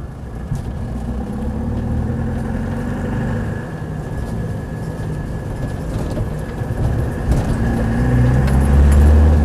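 A Land Rover 90 hardtop with a 200TDi diesel engine runs at a steady idle, a close, continuous rumble that grows slightly louder toward the end.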